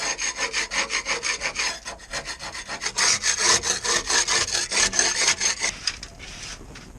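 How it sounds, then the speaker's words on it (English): Steady back-and-forth abrasive rasping while rubbing down a rusty back corner of a narrowboat where the anchor was stored, rhythmic close strokes that slow and trail off at the end. "I'm going to rub it down and get it ready for rust treatment."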